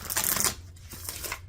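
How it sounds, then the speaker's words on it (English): Tarot cards shuffled by hand make a dense riffling flutter at first, then settle into softer intermittent slaps and slides of the deck, close and alone without talk. "I've been shuffling since before I turned the camera on"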